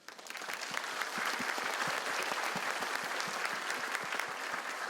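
An audience at a Malaysian financial-sector skills framework launch bursts into applause, sustained scattered clapping that swells quickly and holds steady, heard from a distance in a large hall.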